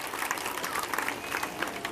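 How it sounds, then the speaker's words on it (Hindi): A crowd gives enthusiastic applause for the chief guest at a Sanrakshika women's celebration, a dense even burst of clapping from many hands throughout. "जोरदार तालियां एक बार फिर हमारी मुख्य अतिथि जी के लिए"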